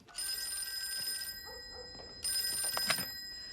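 Home telephone ringing in two bright bursts separated by a pause, fairly faint with some background rustle and no speech.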